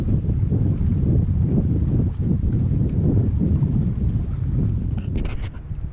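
Light breeze buffeting the microphone aboard a sailboat on a calm morning, a continuous low rumbling wind noise with gentle gusts and faint water sounds, steady and close.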